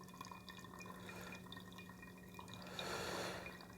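AeroPress coffee dripping through into a travel mug, a faint, close trickle of liquid with a steady low hum behind it and a soft rising hiss near the end.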